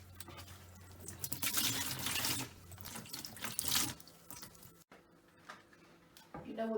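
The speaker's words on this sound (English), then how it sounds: "just get rid of as much water as you can with your giant sponge" Water being sloshed and squeezed from a giant sponge inside a Beko dishwasher left full of undrained water, with wet splashing and dripping up close that fades to quieter handling.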